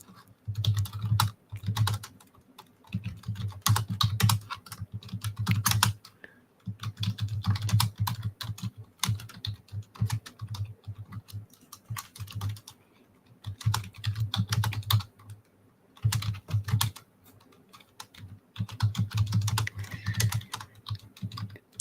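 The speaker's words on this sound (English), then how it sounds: "typing ASMR right now" Typing on a computer keyboard for ASMR, with close, crisp bursts of rapid key clicks broken by short pauses and then resuming in repeated runs.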